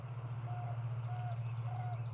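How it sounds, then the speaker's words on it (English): Birds call at sunset on a northern Saskatchewan farm: three short, thin whistled notes spaced about evenly, faint and distant above a loud, steady low drone of farm equipment running nearby. "You can hear all the birds."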